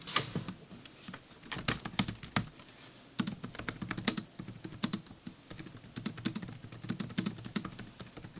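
Steady typing on a Logitech computer keyboard, with quick clusters of crisp key clicks and short pauses, close and fairly quiet.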